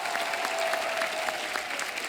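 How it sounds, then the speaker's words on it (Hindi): A studio audience on a comedy talk show gives a guest a short, steady round of applause. The dense clapping is fairly faint and evenly sustained, with no talking over it. "जोरदार तालियां शबीर साहब के लिए"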